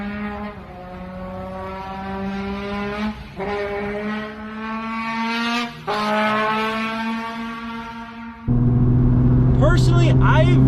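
Nissan 350Z with a VQ V6 engine, a steady harmonic exhaust drone from inside the car that rises and dips with throttle, with a louder surge near the end.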